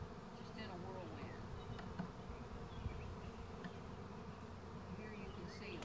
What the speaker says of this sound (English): There are bees as high as these oak trees, straight up, just in a whirlwind.